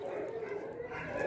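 Small dogs yip and bark excitedly in a steady, overlapping stream, close by, with a person talking over them.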